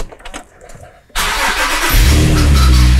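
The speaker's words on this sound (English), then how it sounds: "I'm now going to start the engine." A car engine cranks and fires during a home-garage fuel pressure check, jumping abruptly from a quiet background into a loud steady run that settles into a strong low rumble, close by and alone.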